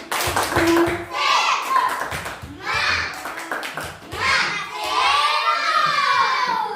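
Schoolchildren in a classroom perform a clapping chant, rhythmic groups of hand claps alternating with shouted, sung chanting voices in unison, loud and close.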